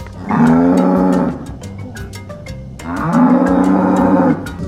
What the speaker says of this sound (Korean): 이렇게 젖소를 본 적은 처음이에요